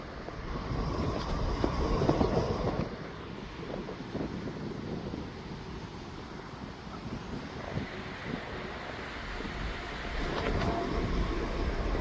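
A train rumbles past at a distance near a canal, with a low rolling roar and some wind buffeting, swelling early and again near the end.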